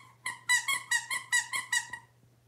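A parrot mimics a squirrel's squeaky call in a quick run of about eight bright, chirpy squeaks over two seconds, close and clear above a low steady hum.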